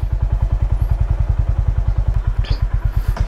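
A Honda Highness motorcycle pulling off at the start of a ride, its single-cylinder engine thumping in a steady rapid loping beat close by, with brief faint rattles over the top.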